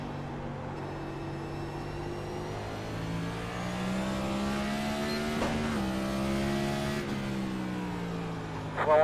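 NASCAR Cup stock car V8 at Martinsville, engine note dropping through downshifts with the pitch stepping down as it slows, loud and steady with a brief crackle near the end.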